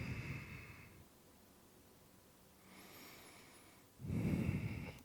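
Slow, audible breaths through the nose during a Tibetan conditioning exercise, one breath at the start and a louder, closer one near the end, with quiet stillness between.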